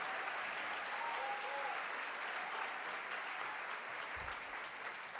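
Steady, dense applause from an audience at a recovery awards ceremony, filling the room evenly for several seconds with a faint voice briefly heard underneath.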